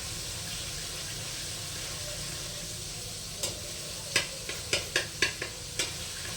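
Finely chopped apple pieces frying in hot oil for pav bhaji, a low continuous sizzle with a quick series of sharp clinks and stirring knocks toward the end, no speech.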